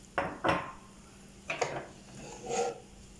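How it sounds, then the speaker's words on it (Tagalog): Soup with carrots being stirred in a pot, a few clinking scrapes of a utensil against the metal in irregular bursts, close and moderately quiet. "Haluin natin."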